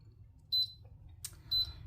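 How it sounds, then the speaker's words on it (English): An AKEYDIY tumbler and mug press gives two short, identical high-pitched electronic beeps about a second apart, loud and close in a quiet room. "now it is beeping that it is ready"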